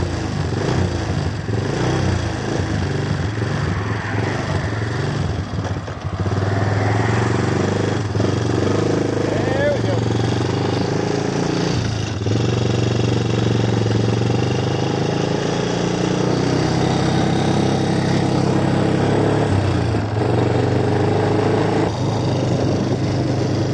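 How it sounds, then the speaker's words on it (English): A four-wheeler engine warms up, running as a steady, loud rumble close by throughout, with faint voices at times underneath. "I'm going on a four-wheeler on the road. Yeah. Got to warm it up."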